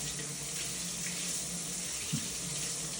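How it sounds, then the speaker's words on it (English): Cold tap water runs steadily over a sheet of matzah, a continuous close hiss of flowing water splashing on the cracker with no voices. "I just run cold water over it for a few minutes, just to soften it up a little bit."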